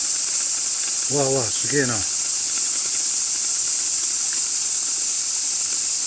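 Water boils on a camping stove at a campsite, giving a steady loud hiss throughout while a man briefly exclaims twice over it.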